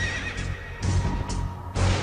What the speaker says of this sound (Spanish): Y vi aparecer un caballo pajizo, cuyo jinete se llamaba Muerte.